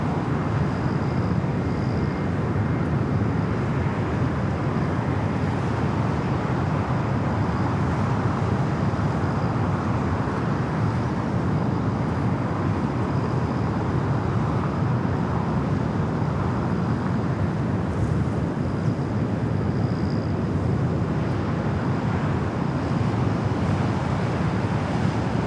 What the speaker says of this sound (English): Moving Qantas Dreamliner.